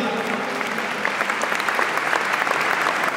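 Audience applause at the Forbes Gala, a dense steady wash of many hands clapping throughout, fairly loud and continuous with a faint crowd murmur beneath.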